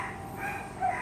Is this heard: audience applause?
no